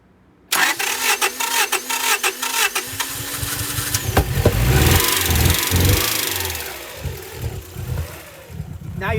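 A Honda Prelude with 113k miles, running flooded and rich, cranks and catches, then its engine revs unevenly as gas is added, surging and sagging as if about to stall; voices talk over it.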